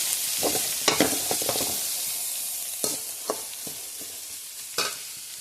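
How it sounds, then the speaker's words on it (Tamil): Onion sautéing in a pan with cinnamon, cloves, curry leaves and green chilli, a close, continuous frying hiss broken by the scrape and clack of a spoon stirring at irregular moments. "பச்சை மிளகா சிறுசாக அரிஞ்சு நான் இதில் போட்டு வதக்கின்னு இருக்கேன்"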